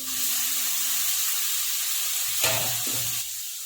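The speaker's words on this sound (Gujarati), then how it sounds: "હવે આપણે કોબી એડ કરી દઈશું" Shredded cabbage hits a hot pan for a Gujarati cabbage and potato shaak, giving a loud, steady sizzle and hiss that lasts throughout, with a brief stir and scrape near the end and no voices.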